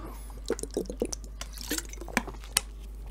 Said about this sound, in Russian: А я водички пока хлебну.